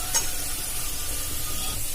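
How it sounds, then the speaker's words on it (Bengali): Potatoes frying in a pan as they are stirred, a continuous close hissing sizzle with a brief scrape near the start and no talking. "খুব ভালো করে ভেজে নেব"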